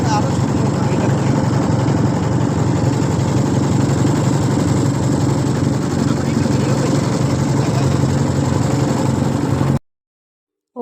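A motorized trawler boat engine drones steadily and loudly up close on a wetland lake, running without a break for about ten seconds before it cuts off.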